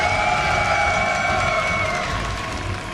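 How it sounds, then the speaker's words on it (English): Tournament crowd at IEM Toronto 2014, a StarCraft 2 esports event, clapping and cheering in a steady, loud wash of applause that fills the room and eases off slightly toward the end. "the crowd is like, all right, QXC, shut up, we're clapping"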